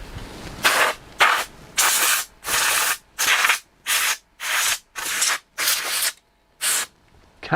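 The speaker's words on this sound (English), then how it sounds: "Can't beat a bit of new air duster. So much more powerful when it's new." A new can of air duster fires roughly ten short, loud hissing bursts of compressed air in a steady on-off rhythm, close up, with quiet gaps between blasts.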